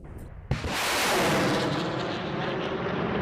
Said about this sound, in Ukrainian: екіпажі БМ 21 38-ї бригади морпіхів стріляють, каже Срібний, більше як снайпери, по кілька ракет на ціль